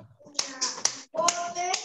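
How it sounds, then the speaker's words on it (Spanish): People clap their hands while walking during a children's rhyme game, producing a few sharp, fairly quiet claps in an uneven rhythm with a short pause in the middle. "Vamos a caminar todos aplaudiendo."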